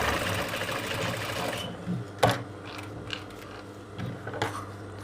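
Sewing machine stitching the middle seam of a corset with a center illusion net panel, a steady mechanical whir that changes pace partway through, with a few sharp clicks and knocks near the machine and no talking.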